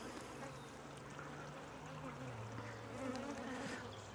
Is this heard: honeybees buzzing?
yes